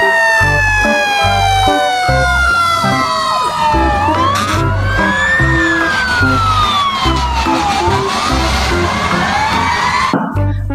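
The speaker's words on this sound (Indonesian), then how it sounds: "Yang ini ada mobil pemadam kebakaran." Toy fire truck siren wailing loudly and continuously, a rising and falling electronic tone over a pulsing beat, cutting off abruptly near the end.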